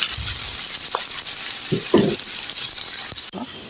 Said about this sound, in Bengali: আমি আরো ভালো করে ব্রাউন করে ভেজে নেব